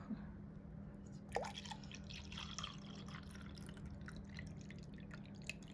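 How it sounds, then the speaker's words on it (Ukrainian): Water is poured into a pot to top up a gelatin cake base in a kitchen: faint trickles and drips with a soft splash over a steady low background hum. "решта ми доливаємо води. Так, доверху."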